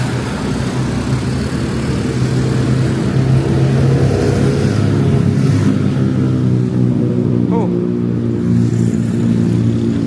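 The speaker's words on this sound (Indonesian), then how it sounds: "kalau dengar suara knalpot brong berisik itu nggak nyaman banget" A loud vehicle with a modified, open 'brong' exhaust drones and revs steadily nearby at night, with a deep continuous roar that dominates throughout.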